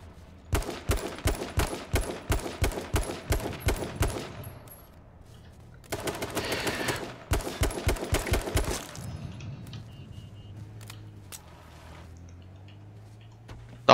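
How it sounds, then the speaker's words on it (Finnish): Rapid bursts of video game gunfire crackle in tight, evenly spaced volleys, with a pause and then a second denser burst before fading into quieter ambient game sound. "Nyt ne ampuu toisensa."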